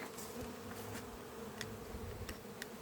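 Honeybees flying around an apiary, a steady close buzzing drone with individual insects whizzing past now and then, heard alone.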